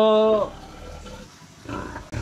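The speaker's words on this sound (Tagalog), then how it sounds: "itong baboy natin, ayan bali ika 100 days na niya ngayon na pagbubuntis" Pregnant sow, about 100 days into gestation on a piggery farm, gives a loud tonal grunt-squeal at the start, followed by quieter low grunting and rustling farm noise nearby.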